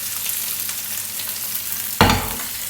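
Food sizzles steadily in a frying pan on steak night, a soft, constant crackle, then a sudden louder burst of hissing and clatter as the pan is stirred or moved, fading back.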